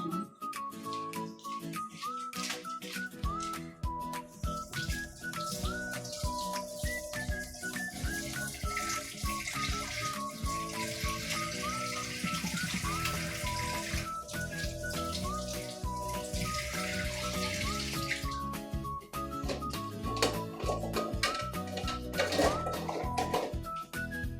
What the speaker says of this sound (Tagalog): So, ito pong onion leeks. Hugasan ko lang din po.